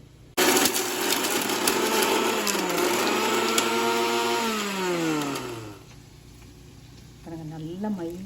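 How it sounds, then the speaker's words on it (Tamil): An electric mixer grinds green chilies and other ingredients into a paste for a restaurant-style veg kurma. The loud, close motor whirs for several seconds, then its pitch drops as it winds down, followed by a quieter stretch. "இதை வந்து நல்லா விழுதாக அரைச்சி எடுத்துக்க போகிறேன்"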